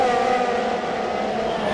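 Formula One race cars in a video game scream past at high revs, a sharp whining engine note carrying steadily through the short moment with no commentary heard.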